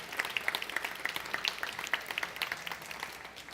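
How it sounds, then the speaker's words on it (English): Faint, thin applause from a small audience after a cooking demonstration, a handful of distinct claps heard at a distance for a few seconds. "Big round of applause."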